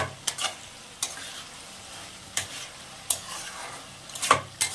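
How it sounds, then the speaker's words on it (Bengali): Spices stirred with potatoes and amudi fish in a pan for a winter curry with onion shoots, a low steady sizzle broken by several sharp scraping clicks of a spatula against the pan. "আর একটু কষিয়ে নেবো"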